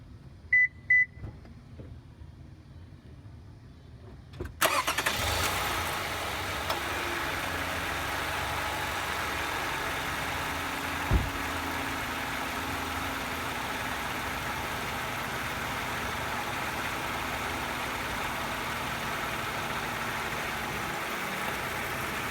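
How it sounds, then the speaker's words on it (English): A few soft clicks, then the engine of a 2007 Lexus RX 350 cranks and catches at once, settling into a steady, even idle that runs on close by with no talking. "Now I'm going to start the engine and let it run for just a second"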